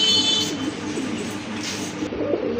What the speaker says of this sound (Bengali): এখানে কিন্তু আরেক জোড়া কবুতর আছে গিরিবাজ কবুতর